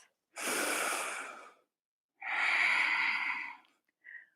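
Two long, deep breaths, an inhale and then an exhale, come during a yoga flow. They are loud and close, with a short breathy sound at the end.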